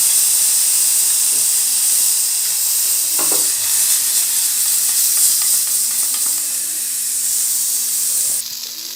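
Meat frying in a pan with noodle masala added for a chicken noodle dish, a loud, continuous close hiss and sizzle with faint stirring scrapes, no voices.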